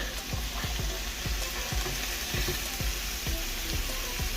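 Chopped bacon is stirred into drained cooked meat in a pan, a soft steady sizzle under repeated light scraping strokes of a utensil, close up and moderately quiet with no voices.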